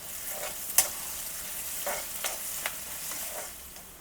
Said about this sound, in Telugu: ఉల్లిపాయలు గోల్డెన్ బ్రౌన్ వచ్చే వరకు బాగా ఫ్రై అవ్వనివ్వాలి